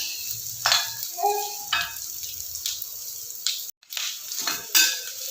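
Garlic sizzles in hot oil in a pan for beef pickle, with a spatula stirring and scraping against the pan in repeated close strokes.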